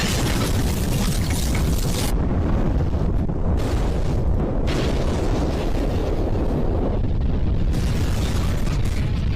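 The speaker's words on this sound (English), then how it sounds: "A video shows the explosion incident at China's Qilu chemical plant" Explosion and blaze at the Qilu chemical plant in China, heard as a sustained, loud, roaring broadband rumble with deep booming energy throughout and bursts of harsher crackling noise that come and go, with no speech.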